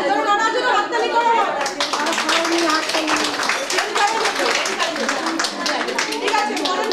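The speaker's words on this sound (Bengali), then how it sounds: "ধরুন ওনার জন্য হাততালি করো" A group of rural women at a nutrition training session claps for a participant, a dense, steady patter of many hands starting after a moment of talk and continuing, with voices chattering underneath.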